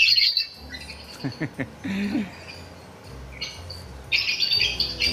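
Pet lovebirds chirp and squawk in bright, repeated bursts, loud at the start and again near the end, with a few sharper calls in the middle against soft background noise.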